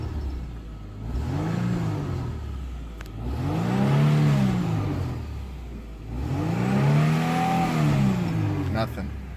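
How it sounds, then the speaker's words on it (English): A car engine is revved three times in long sweeps, each one rising in pitch and then falling back, close and fairly loud with no talk. "I'm just gonna start revving it."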